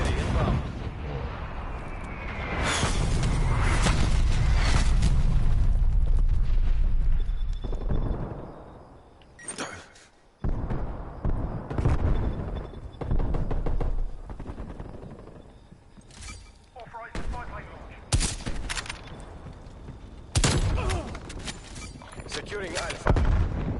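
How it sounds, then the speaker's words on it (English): Incoming artillery strike in a military shooter video game: a sustained roaring rumble followed by a series of sharp, loud blasts and gunfire cracks spaced irregularly, with brief quieter gaps and some game voice chatter. "Artillery inbound."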